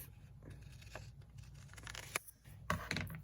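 Scissors cut a sheet of sublimation paper in half with a few crisp, close snips and a light papery rustle between them, fairly quiet and without talk.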